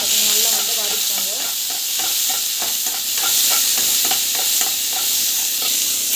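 Chili and onion frying in a pan, a steady bright sizzle with repeated stirring scrapes and clicks of a spoon throughout, close and continuous, no voices.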